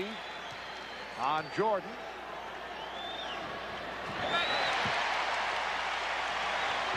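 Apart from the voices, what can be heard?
basketball arena crowd reacting to a foul call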